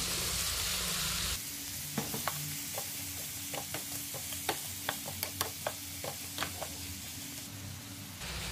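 Pork sizzles in a pan with tomatoes as it cooks for Filipino adobong baboy sa kamatis, a steady hiss of frying under a series of light clicking stirs and scrapes against the pan.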